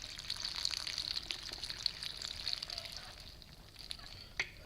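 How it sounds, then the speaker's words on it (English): Water pours into a smoothie jar in a continuous splashing, gurgling stream at close range, with a brief clink near the end. "Now we add some water."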